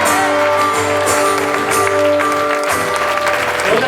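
An audience at an improv match claps steadily and loudly throughout, a dense wash of many hands with occasional whoops rising over it.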